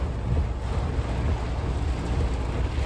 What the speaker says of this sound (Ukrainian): Сильний дощ пішов, зараз подивимось.